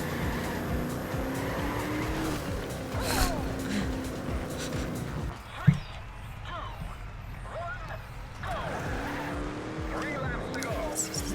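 Car race in TrackMania Turbo, with game engines droning, tires squealing and skidding through corners, and a brief sharp impact midway, all under someone talking throughout.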